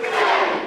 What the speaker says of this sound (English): Listen to the crowd count along.